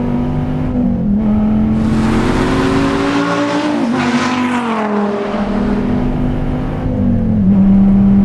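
A DSC Sport-tuned Dodge Viper TA accelerates hard on a race track, its loud engine note climbing steadily through the gears with brief dips at shifts, close and continuous throughout.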